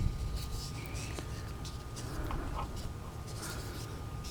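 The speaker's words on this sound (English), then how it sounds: "if I take a glue stick and I draw 2 circles, go around it" Soft, continuous scratchy rubbing of a glue stick dragged across paper in steady strokes, close by, with faint room noise underneath.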